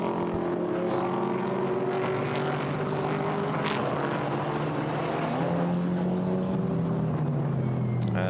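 McLaren GT4 race car driving past on the Paul Ricard circuit during a GT4 European Series race, a loud engine drone with shifting pitch that swells and sweeps by, with no talk over it.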